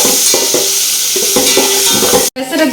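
Garlic-ginger paste frying in a pan after browned onions, a steady loud sizzle with repeated scraping stirs, a brief cutoff near the end before the frying resumes.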